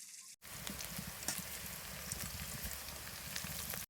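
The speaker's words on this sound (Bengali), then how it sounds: "এবার পেঁয়াজের বেরেস্তা করে নেবো।" Sliced onions fry in hot oil for birista while an egg korma is being cooked, giving a steady, dense sizzle and crackle that runs unbroken and fairly close after a brief quiet start.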